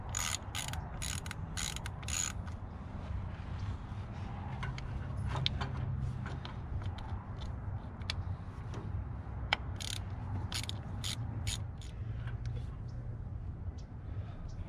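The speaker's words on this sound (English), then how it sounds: "I got my socket. We're gonna pull this off and see if there's any dust or anything in there." A socket wrench ratchets in quick clicking runs on a Honda Integra mini stock race car's distributor cap, the bursts of clicks coming at irregular intervals up close, with someone talking between them.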